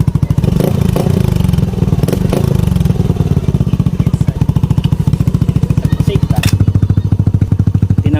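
Yamaha Aerox v2 scooter fitted with an oval full-system muffler, revved hard: a loud, close, rapid pulsing exhaust drone that rises and falls through repeated throttle blips across the whole stretch.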